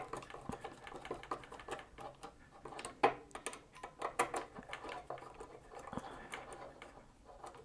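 Nuts are tightened on a pinball flipper assembly during a flipper rebuild, producing quiet, irregular metallic ticks and clicks from a wrench and hardware, close but faint.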